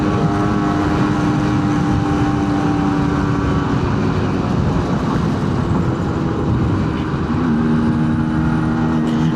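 A Suzuki A100 motorcycle with a freshly rebuilt engine runs steadily at speed on the Pantura road, a constant loud engine drone mixed with wind rush throughout.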